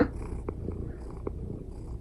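A cat on a bed purrs close up, a soft continuous low rumble pulsing with its breathing, with a few faint rustles.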